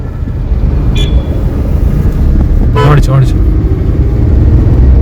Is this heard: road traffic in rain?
yes